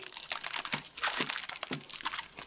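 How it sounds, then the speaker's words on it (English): Tape is pulled and pressed down to secure a homemade paper monster puppet, giving close, crackly bursts of crinkling and sticky tearing in uneven clusters. "I'm going to use a little bit of tape to secure that"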